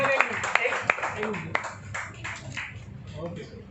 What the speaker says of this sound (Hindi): सब ताली बजती रहनी चाहिए